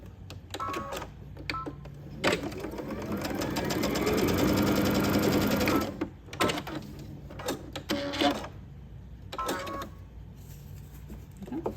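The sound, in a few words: sewing machine chain stitching tote bag pieces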